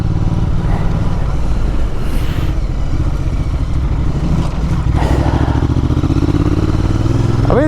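An Interlayan 650 motorcycle engine drones steadily at riding speed, a loud, continuous low throb with wind rush that stays up close throughout, a brief rise in pitch near the end.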